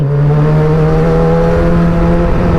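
A Kawasaki ZX25R four-cylinder motorcycle on its exhaust, a loud close steady engine drone with a strong low tone, held without talk for a few seconds.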